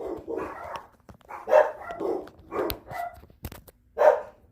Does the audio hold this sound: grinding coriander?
no